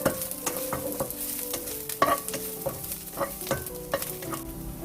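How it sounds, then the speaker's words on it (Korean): Onions stir-frying in a little olive oil in a pan, with a steady sizzle and repeated scraping and stirring knocks throughout, close and fairly loud with no talk. "그리고 양파를 넣고 반쯤 투명해질 때까지 볶아주세요."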